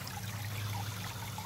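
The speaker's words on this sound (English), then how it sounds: "A little waterfall." A small waterfall trickles into a backyard pond holding goldfish and sunfish, a faint, steady, continuous wash of water with no voices.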